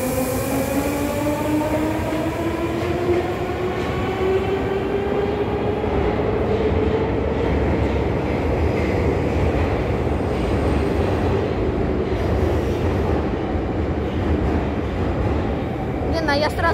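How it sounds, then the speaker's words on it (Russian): A metro train on Moscow's Butovskaya line rumbles in loudly and steadily, its rising whine and rolling wheel noise filling the whole stretch, with some faint voices underneath. "нам сейчас главное знать, что чтобы поезд нормально приехал"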